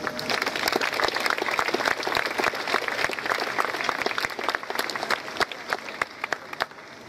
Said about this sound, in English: Also, let's give a round of applause for our Naval Junior ROTC Color Guard.